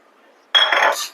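Spiced chevda of rice flakes and sev being mixed in a dish, heard as a short, close burst of rustling and light clinking of the dry mix against the bowl, after near silence.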